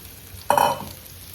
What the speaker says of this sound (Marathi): बटाट्याला तडका मारायचा आहे